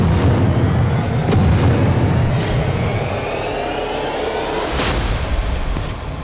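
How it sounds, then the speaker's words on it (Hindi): Heavy, rumbling blasts from explosives destroying Hamas tunnels in Gaza roll on continuously. Deep booms swell and fade with a few sharper cracks, loud and distant-sounding, with no talking. "वहीं विस्फोटकों के जरिए टनल्स को तबाह किया जा रहा है।"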